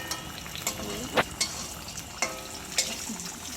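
Vegetable stems (danta) frying in a pan, a close crackling sizzle broken by several sharp spatula scrapes and stirring knocks.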